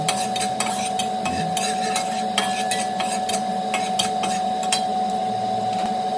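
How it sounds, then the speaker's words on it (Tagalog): Garlic sautés in a pan for shrimp with soy sauce, a soft, even sizzle with scattered light spatula taps over a steady background hum. "igisa-gisa natin hanggang sa konting brown lang"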